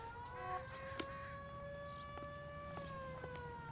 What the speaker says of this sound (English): Why are there sirens?